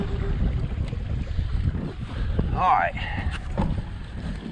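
A bass fishing boat runs across open water on a windy, cloudy spring day, a steady roar of engine, hull and wind noise filling the clip while someone briefly speaks over it.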